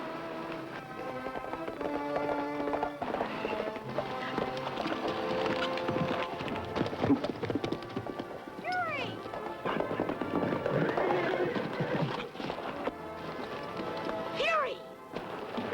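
Horses in a 1950s Western TV drama, hooves clattering and a couple of whinnies rising over a dense mix of dramatic orchestral score and shouting voices throughout.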